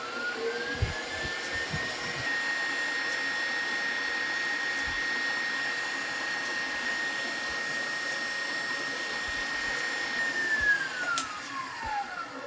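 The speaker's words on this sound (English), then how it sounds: "Then beat the eggs until they hold a soft peak." An electric mixer whipping egg whites to soft peaks, a steady high motor whine running nearly nonstop with a brief pitch drop near the end, and a few soft knocks at the start.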